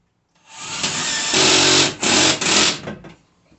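A power drill drives bolts for a full-motion TV wall mount, a loud close whine starting up, holding, dipping briefly, then surging twice more before spinning down.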